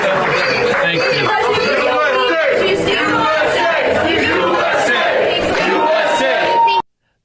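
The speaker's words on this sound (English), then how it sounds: "Those are Muslims cheering for Trump at a coffee shop in Dearborn, Michigan" A crowd of Muslims cheers for Trump inside a coffee shop in Dearborn, Michigan: loud, dense shouting and chatter that holds steady for almost seven seconds, then cuts off abruptly.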